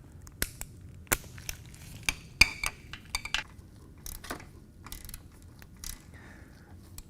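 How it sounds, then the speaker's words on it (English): A ratchet wrench with an extension and socket works loose the transmission drain plug on a Harley Davidson motorcycle, producing sharp, irregular metallic clicks and ratcheting bursts, close and fairly quiet, with short pauses between strokes and no talking. "take your ratchet and your 3-inch extension and your 5/8 inch socket and remove it"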